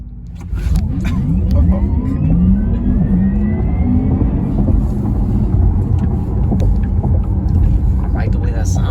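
A 2021 Porsche Taycan Turbo S electric car accelerates hard from inside the cabin, a deep rumble joined by a rising motor whine that climbs and holds loud throughout, with occasional voices in the car.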